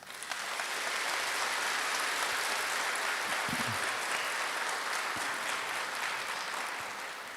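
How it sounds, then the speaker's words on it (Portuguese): Congregation applauding at a diaconal ordination Mass in a church, a dense steady wash of clapping that swells in, holds for several seconds and tapers slightly at the end, with no voices over it. "merece uma expressão de carinho com uma salva de palmas"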